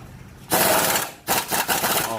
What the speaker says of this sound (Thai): แล้วก็พอใส่เข้าไปแล้วก็ยิงน็อตให้แน่น